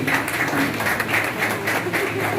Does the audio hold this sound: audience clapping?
yes